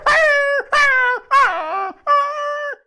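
A mimicry artist's voice imitates street dogs, producing four drawn-out howling barks in a row, each loud, tonal and close, with brief pauses between them.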